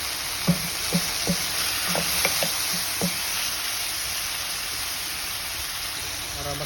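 Garlic, onion and tomato sauté with upo in a hot pan, a loud steady sizzle carrying a run of distinct spatula clinks and scrapes in the first half, then continuous frying alone.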